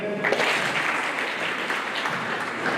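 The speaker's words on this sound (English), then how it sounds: "Can we clap for them?" An audience at a national student supply chain conference claps for visiting guests, producing even, sustained applause throughout at a moderate distance with no break.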